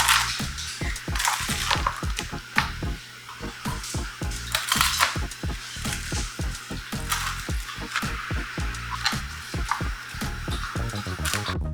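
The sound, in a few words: knife chopping Detroit-style pizza in a 9x13 pan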